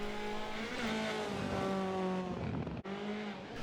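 A Skoda rally car races through a stage in the Dirt Rally 2.0 simulation, its engine droning loud and steady at high revs with shifting pitch, one brief cut near the end, no talk.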